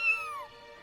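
A young kitten gives a single short, high meow that glides downward, heard close and alone at moderate volume.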